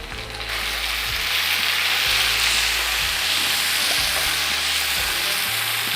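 Tomatoes sauté in a pan for chicken biryani, giving a steady, loud sizzle and hiss with a rhythmic scraping stir about once a second.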